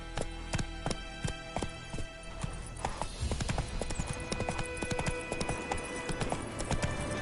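Horse hooves in The Witcher 3 video game pound out a quick, steady clip-clop gallop, close and loud, with a brief change of pace partway through and no talk.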